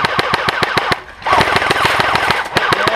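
Airsoft M41A pulse rifle replica firing during an outdoor game, rapid full-auto bursts of sharp, evenly spaced clicks with a brief pause in the middle, loud and close.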